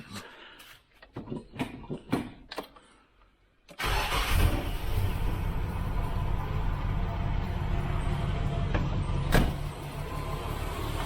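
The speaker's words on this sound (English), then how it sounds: "Start your engines." A Nissan GQ Patrol's TB42 engine with a Holley 350 carburettor cranks briefly, then catches and settles into a loud, steady idle close by, with a few clicks and handling noises before it starts.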